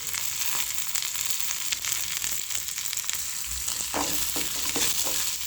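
Mustard seeds, dried red chilies, onions and curry leaves sizzle steadily in hot oil for a South Indian tempering, with a few sharper crackles and stirring scrapes near the end and no voices.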